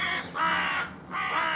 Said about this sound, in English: Two ravens, or I think they're either ravens or crows, I can never remember.